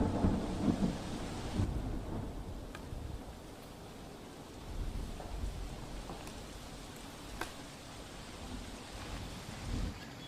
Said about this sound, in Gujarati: દક્ષિણ ગુજરાતમાં વરસાદનો જોર વધારે છે